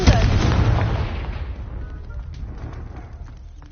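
A Confringo fire spell blast in a video game, a loud booming burst at the start that decays into a long rumbling tail.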